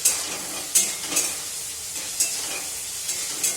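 Spice masala with tomato and water cooking in a pan, a soft continuous sizzle broken by several scraping stirs of a spoon, close and moderately loud with no talking.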